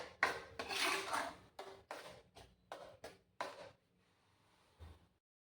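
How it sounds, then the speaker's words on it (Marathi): A mango and coconut mixture being stirred in a pan over low heat, a series of distinct scraping strokes in an uneven rhythm, close and fairly loud, then a quiet pause and one last soft scrape. "हे सगळं आपण मंद गॅसवरच करून घ्यायचं आहे आणि याला सारखं ढवळत राहायचं आहे"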